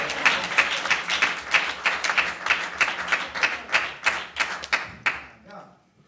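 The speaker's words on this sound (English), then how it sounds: "Clap your hands for the reading of his word." Church congregation at an anniversary service clapping in unison, a steady rhythmic beat of many hands, roughly three claps per second, fading out over the last second.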